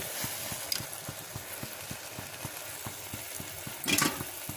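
Coconut sweet syrup stirred in a pan while it thickens, a faint bubbling simmer under a steady rhythmic scraping of the spoon about twice a second, with a brief louder clatter near the end.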